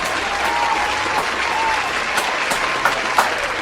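Steady applause from a crowd, a dense wash of clapping with a few sharper claps standing out, lasting the whole time.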